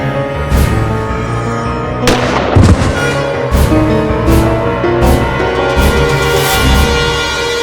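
Courtroom drama gunfire effect: several sharp, booming bangs spaced a second or so apart, loud and reverberant, over a steady dramatic music bed.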